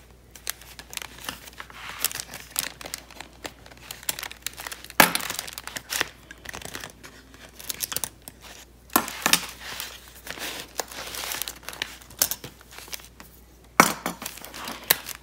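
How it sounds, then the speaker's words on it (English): Paper clips come off a handmade stitched journal, heard as a string of close, crisp clicks, rustles and paper crinkles at an irregular pace. "let's go ahead and take off our paper clips"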